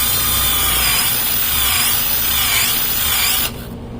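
A non-abrasive wheel on a power tool cleaning metal parts of a boat's Fischer Panda cooling system, giving a steady loud rubbing whir that cuts off abruptly near the end.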